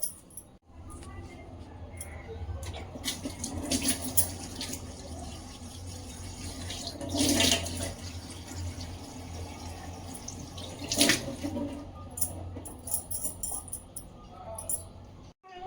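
A tap runs steadily while someone washes their face at home, a continuous splashing water stream with occasional louder splashes and clinks, and faint voices nearby.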